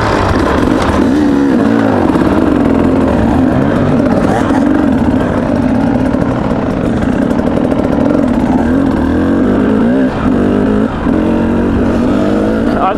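Several enduro motorcycles revving loudly and steadily close by while being unloaded for a mountain ride, engines droning throughout with people talking over them.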